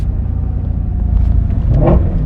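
Shelby GT350 V8 engine revving during a rev-matched downshift, a steady low rumble that swells into a brief louder blip near the end, close and without talk.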